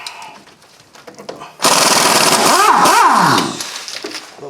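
Impact gun or power tool hammers on brake caliper bracket bolts of a 2008 Hyundai Elantra, a loud rattling burst of about two seconds with whining pitch sweeps, after a quieter stretch.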